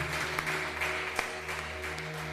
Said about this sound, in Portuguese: aplauda o Senhor bem alegre para Jesus